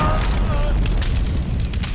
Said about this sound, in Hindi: धमाके की आवाज